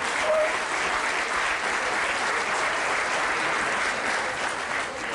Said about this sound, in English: Let's also give a big round of applause to the catering company